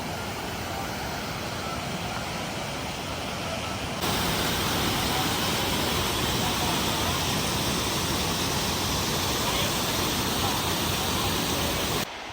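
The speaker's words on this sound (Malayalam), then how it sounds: "നല്ലൊരു വെള്ളച്ചാട്ടമാണിത്" A waterfall on the Kedarnath trek toward Gaurikund in Uttarakhand roars as a steady, dense rush of falling water, growing noticeably louder partway through and holding that level to the end.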